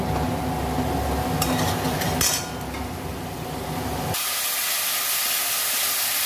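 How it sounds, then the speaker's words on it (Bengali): Water is tipped into well-fried spice masala in a pan for an echor and prawn curry, setting off a loud steady hiss and sizzle. Brief stirring clatter comes midway, then a sharp, brighter burst of steam near the end. "এবার আমি জল দিয়ে নেব"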